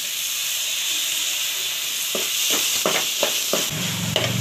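Tomatoes and green chilli frying with ginger-garlic paste for a chicken gravy, giving a steady close sizzle and hiss with several short bursts of stirring and pan scraping.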